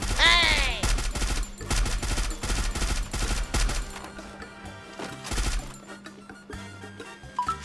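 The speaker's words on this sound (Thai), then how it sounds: "มีตัวยิงกันครับจากฝั่งด้านล่างครับ" Loud gunfire in Free Fire, rapid automatic bursts and single shots cracking close by in clusters, then thinning to scattered distant shots as someone talks over it.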